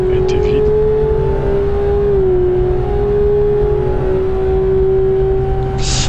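A 2022 Porsche 911 GT3 (992) driving in traffic: a loud, sustained engine drone heard from inside the car, holding a steady tone with slight pitch shifts as the throttle changes.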